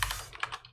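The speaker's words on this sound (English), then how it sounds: "Typing." Quick, close keystrokes on a computer keyboard, a short run of a few taps in under a second with no voices.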